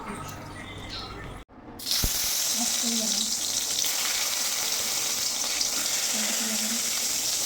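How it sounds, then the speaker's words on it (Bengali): Loud, steady sizzling of sago papad frying in hot oil, a dense hiss that starts abruptly after a brief gap and continues without letup. "সাবুর পাঁপড়টা ভেজে নিচ্ছিলাম"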